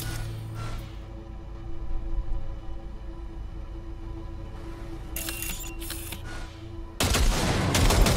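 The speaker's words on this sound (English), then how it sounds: "Fire a short burst into it." A short burst of gunfire into a pile of junk in Cyberpunk 2077, loud sharp blasts at the start and a dense, heavy volley near the end over a steady game background hum.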